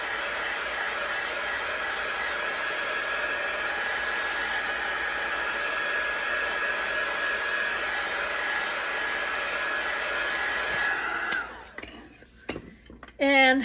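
A hair dryer runs steadily and loudly to dry a freshly applied layer on an altered playing card journal, a continuous whooshing drone that cuts off near the end, followed by brief handling noises.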